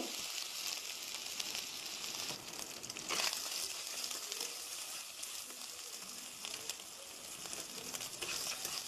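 Chopped tomato, slit green chilies and ginger paste sizzle and fry steadily in hot oil with whole cumin in a pan, a dense, close crackle with faint stirring scrapes.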